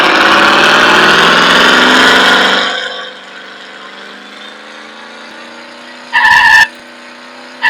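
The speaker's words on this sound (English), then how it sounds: "I also added a car engine sound" Synthetic car engine in a homemade Unity racing game: a loud, buzzy revving drone that drops after a few seconds to a quieter steady idle hum, then a brief sharp burst of higher tones near the end.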